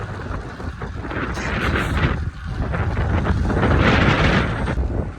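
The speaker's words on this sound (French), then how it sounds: "un peu de vent de face" Steady headwind buffeting a microphone while riding a fixed-gear bike, a continuous loud low rumble that swells and dips without letup, no talking over it.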